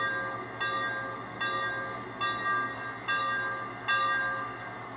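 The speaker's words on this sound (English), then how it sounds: "So let's hear the bell." The bell of a 3rd Rail N&W TE-1 Jawn Henry steam turbine model locomotive rings at a steady pace, about every eight-tenths of a second, over a constant low electronic hum from the sound system, with no voices.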